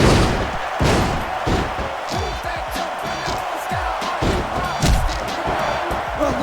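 Capacity arena crowd roaring steadily in the WWE SmackDown! vs. Raw 2006 wrestling game, a continuous loud wash of cheering broken by slams and thuds from the ring.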